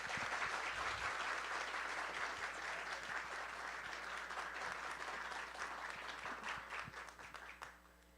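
A conference audience at an industry event in Rio de Janeiro gives a speaker a sustained round of dense applause. It stays loud and even, then thins and fades out near the end.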